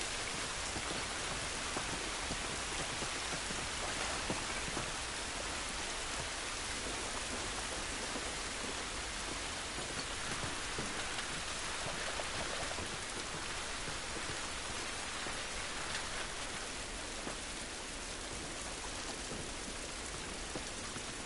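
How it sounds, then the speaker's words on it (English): Steady rain in The Last of Us video game, an even, dense hiss of falling drops that runs unbroken for over twenty seconds with no voices over it. "It's raining."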